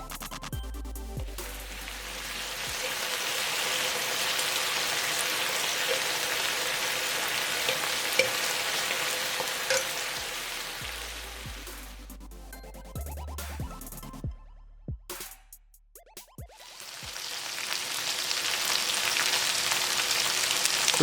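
Gochujang-marinated pork belly fries in a pan with a dense, steady sizzle and crackle, dipping briefly as the pieces are turned partway through, close and continuous with no talking.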